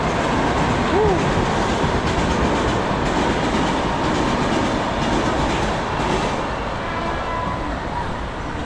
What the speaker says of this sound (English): That is train passing.